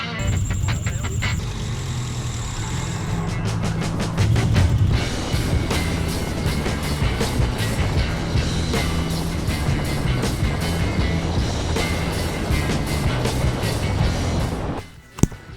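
A historic single-seater race car runs on a circuit heard from the cockpit, its engine droning loudly and rising and falling in pitch, with a rapid mechanical rattle and a sharp knock near the end.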